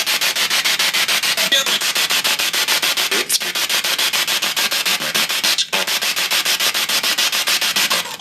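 Harsh, continuous radio static from a P-SB7 spirit box with FM antenna connected sweeps rapidly with steady choppy pulses, loud and unbroken at full volume, with a couple of brief dropouts.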